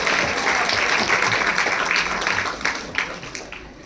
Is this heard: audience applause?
yes